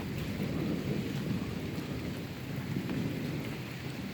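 Thunderstorm with steady heavy rain, a continuous dense roar of rainfall layered with low rumbling thunder, loud and close throughout with no voices.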